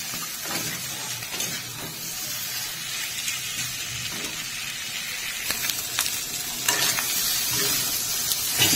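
Chicken feet frying in a thick masala are stirred in a pan, giving a sustained hiss and sizzle with intermittent scraping and knocking of the utensil, growing a little busier toward the end, with no speech.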